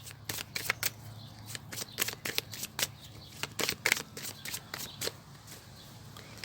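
Cards being shuffled and drawn for a tarot-style card reading, a quick series of close, crisp flicks and snaps in an uneven rhythm with no voices.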